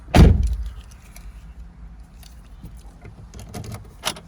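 Keys pulled from the ignition of a 2006 Porsche 911, with a loud clunk at the start followed by soft jangling and small metallic clicks, close up and with no talk.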